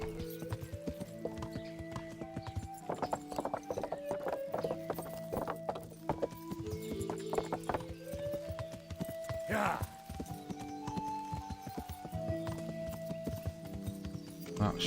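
Horse hooves clip-clop steadily on town streets in the medieval video game Kingdom Come: Deliverance, a close rhythmic trot running throughout under a soft musical score, with a brief whinny partway through.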